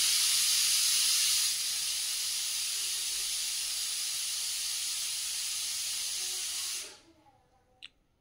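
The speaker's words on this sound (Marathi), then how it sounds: "आधी एक पीस टाकून परतून घेणार आहे मी।" Vegetable pieces frying in a pan, making a loud, steady hiss of sizzling oil that holds for about seven seconds before cutting off abruptly, followed by a few faint clinks.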